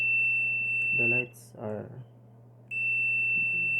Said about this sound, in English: The buzzer will beep if it has continuity.